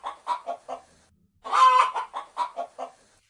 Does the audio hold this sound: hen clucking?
yes